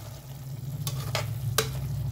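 Spices and garam masala fry in a pan of drumstick and amaranth curry, giving a steady low sizzle, while a spoon scrapes and stirs three times, close and clear, with no voices.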